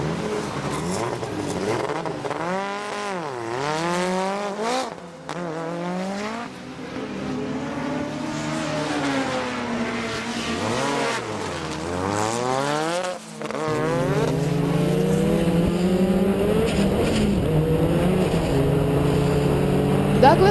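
Race cars competing at the BARL Easter Monday meet in Barbados, loud engines rising and falling through repeated gear changes and passes, with a steadier close drone building in the later part, under ongoing commentary.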